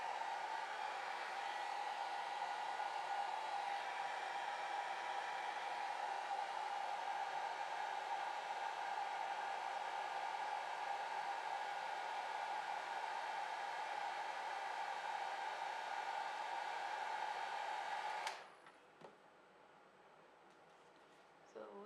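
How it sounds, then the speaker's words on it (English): A hair dryer blows steadily on alcohol ink for a flower painting, a continuous close whooshing hum that runs unbroken for about eighteen seconds before cutting off abruptly, leaving quiet rustling. "just hold the dryer at one place"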